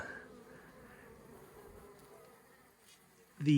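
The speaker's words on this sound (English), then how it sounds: "other bee in there is calming down, so they're probably very excitable now" Honey bees buzz in a queen push cage, a faint close-up droning hum with shifting pitch, followed by a louder burst of sound at the very end.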